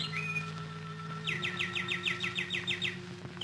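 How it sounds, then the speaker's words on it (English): Birdsong used as a sound effect in the old-time radio drama Inner Sanctum: a single chirp, then a quick series of bright, repeated trilling chirps over a low steady hum, with no talking. "Birdsong for a murderer."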